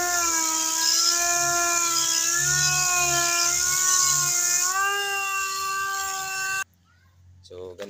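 A rotating body-repair tool spins unevenly and vibrates with a wavering whine, steady for several seconds before cutting off abruptly, leaving a quieter tail with a brief voice at the end.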